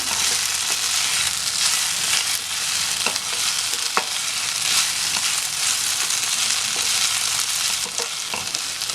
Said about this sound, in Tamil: சேர்த்துட்டு இதை நல்லா மிக்ஸ் பண்ணிடலாம்